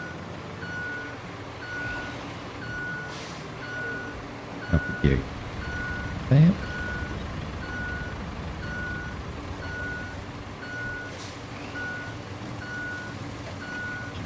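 A big truck reversing in the RoadCraft video game sounds a steady, evenly spaced run of reversing beeps over a low engine rumble. A few clunks sound midway, and someone speaks briefly.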